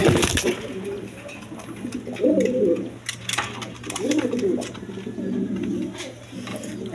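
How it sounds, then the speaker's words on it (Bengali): A pair of large red pigeons, male and female, coo in repeated low throaty rolls at close range, several bouts in a row with faint background noise. "একদম বিগ সাইজের দেখার মতো কবুতর"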